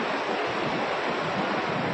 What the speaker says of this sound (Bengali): সামনে একটা ওয়াটারফল, মানে এই যে ঝর্ণা টর্ণা, সামনে উপর থেকে জল পড়তেছে